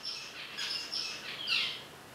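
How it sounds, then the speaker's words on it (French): Pet birds chirping indoors, several quick, bright high-pitched tweets in short bursts, fairly faint and close with no talking. "Ça c'était mes oiseaux."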